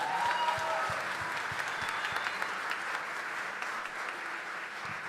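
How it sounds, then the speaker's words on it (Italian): Church congregation applauding after a Christmas concert choir, a steady wash of many hands clapping at moderate distance, sustained throughout without pause. "Un applauso per favore."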